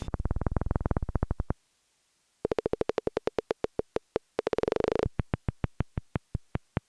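Rapid electronic pulses from an Operator synth in a techno production, repeating in bursts, speeding into buzzing tones, with a brief silence partway through; no voices.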